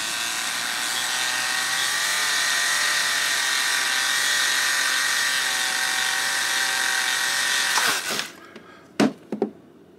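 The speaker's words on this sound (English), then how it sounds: "just start sharpening" A blade for leather, jewelry or woodworking is ground on a powered sharpener, a steady high buzzing whine that runs for several seconds, then cuts off into a few short, sharp scraping touches.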